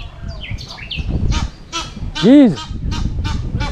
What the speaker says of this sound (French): Bah oui, j'ai un canard.